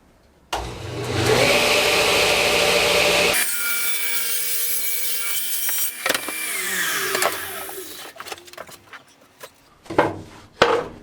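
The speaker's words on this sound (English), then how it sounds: "trim down the leg where it goes vertical" Plywood leg of a monitor stand being trimmed with a power saw: a loud sustained cutting whine runs for a few seconds, then quieter rubbing and scattered knocks and clatters of handling the wood, with no talk.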